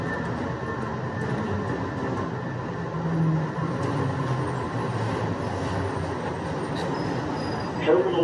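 An SFO AirTram people-mover train rolls along its guideway, a steady rumbling wheel and motor drone heard from on board with a faint high squeal near the end.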